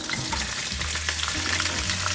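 Star anise toasts in a pot among vegetable scraps for stock, giving off a close, steady sizzle and crackle with faint low scraping underneath.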